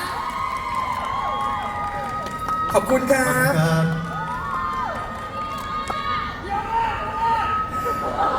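Fans at a Bangkok press conference for a celebrity cheer and shout loudly, with high-pitched screams and clapping rising and falling throughout while someone talks over the noise.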